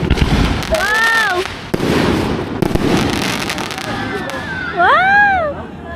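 Christmas fireworks burst outdoors in a run of sharp cracks and booms, with whistling rockets rising and bursting, while people cheer and chatter in the background.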